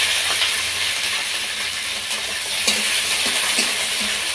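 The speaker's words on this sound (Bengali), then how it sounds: "পেঁয়াজগুলো ভেজে আমি বেরেস্তা করে নেব।" Onions fry in white oil in a wok with a dense, continuous sizzle up close, broken by small crackles and the scrape of stirring.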